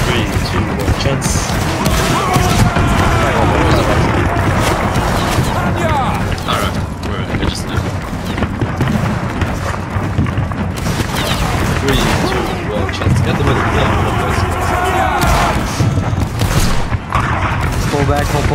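Musket volleys from a line of troops in a Roblox Waterloo battle game, dense continuous crackling gunfire and booms filling the whole stretch, with voices calling out orders over it.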